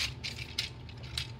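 Plastic Transformers Galvatron toy, voyager-class figure, with its arms being folded outward: a few faint, close clicks and ratcheting snaps of the joints over quiet room noise.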